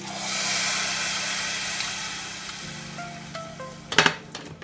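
Hot oil tempering being poured into a prawn and drumstick curry, giving a steady close sizzle and frying hiss that fades into stirring, then sharp clinks of a utensil against the pot near the end.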